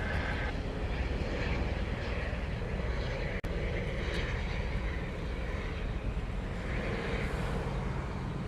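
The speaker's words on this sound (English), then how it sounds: "The next one out is a Northern Air Cargo. It's a 737-400. It's heading off to Kona." Boeing 737-400 freighter of Northern Air Cargo departing Honolulu airport, its jet engines a steady, broad roar holding at a fairly even level throughout, with one sharp click partway through.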